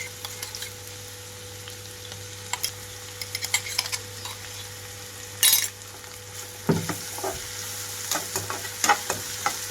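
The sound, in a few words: green chili paste frying in a pan on high flame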